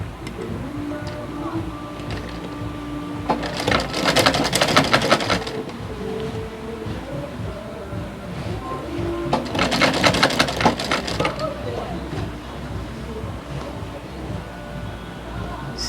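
A sewing machine stitches pleats along a peplum gown with a half-inch seam, running in two loud bursts of rapid mechanical whirring separated by quieter handling sounds at close range.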